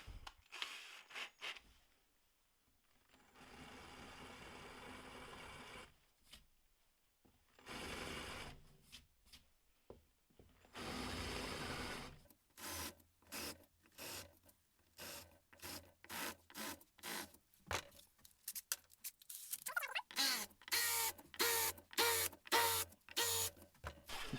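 A handheld battery drill countersinks screw holes in a shaped hydrofoil wing, in short bursts separated by pauses, ending in a rapid run of stuttering pulses, close and fairly quiet with no talk.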